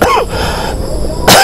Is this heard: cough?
yes